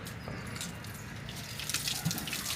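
Water is poured and splashed while a child is bathed at home, a continuous soft running and splashing that is fairly faint and close, with a few louder splashes near the end.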